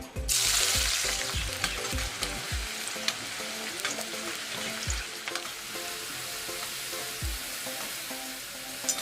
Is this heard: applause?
no